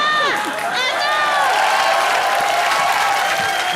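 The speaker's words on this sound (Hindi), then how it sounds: "ये तालियां उनके लिए कि मेरे लिए?" Sustained applause from a studio audience on a Hindi comedy show, steady and loud from start to finish, with voices and cheers mixed into the crowd noise.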